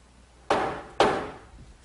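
Two sharp knocks half a second apart as a clamp is set over the top of a glued-up wooden trestle tabletop, close and alone with quick decay.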